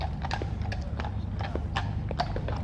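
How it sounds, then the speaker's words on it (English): Mounted officers' horses at a full-dress coronation rehearsal clip-clop in a steady irregular patter of hoof strikes over a constant low crowd and street rumble, moderately near. "we see them on their horses there"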